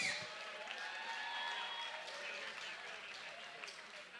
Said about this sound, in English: how about a round of applause for one great opening contest?